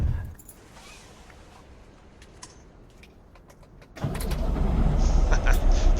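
In American Truck Simulator, a Peterbilt 281-351 truck door shuts with a single solid thud partway through. A louder, fuller cab and engine rumble follows, after a quieter stretch of idle.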